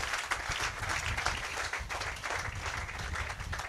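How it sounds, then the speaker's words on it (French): Congregation applauding the Lord during a French-language church sermon, a steady wash of many hands clapping at even loudness throughout. "Donnez une main d'acclamation au Seigneur de l'Église."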